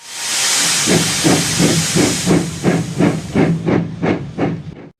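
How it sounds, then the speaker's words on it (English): A steam locomotive hisses loudly, then settles into a steady rhythm of chuffing puffs, about two per second, close and strong. "Then, the driver pulled the lever and Edward puffed away."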